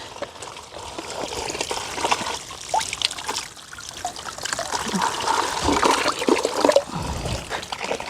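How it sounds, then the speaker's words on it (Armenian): Water trickles and splashes steadily as it is poured onto the base of a tree in a garden plot, close and continuous throughout. "Հենա ջուր եմ, դրա ջրենք։"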